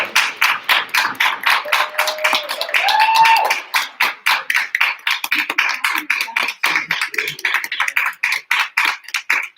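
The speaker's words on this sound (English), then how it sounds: "please join me in a round of applause for the new members of the Pascack chapter of the National Honor Society" An audience at a school National Honor Society induction ceremony applauds new members with sustained, fairly even clapping in a hall, along with a brief tonal squeal partway through.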